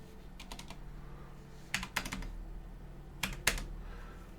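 Quiet typing on a computer keyboard: a few soft keystroke clicks in small clusters over a faint background hum.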